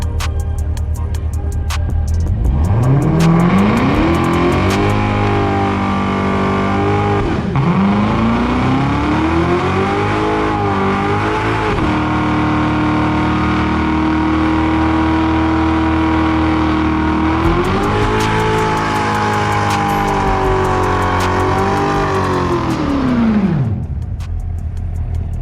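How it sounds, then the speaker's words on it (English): A Corvette ZR1 holds a long, loud burnout, its engine revving hard and sustained for over twenty seconds with rising and falling pitch as tires spin against pavement, heard up close with no talking. "I think it's time we do a massive burnout in the ZR1."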